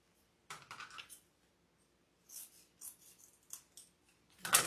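Scissors snip ribbon ends into a dovetail for a summer lemon wreath, several crisp close cuts in short bursts separated by quiet pauses, ending with a sharper louder snip.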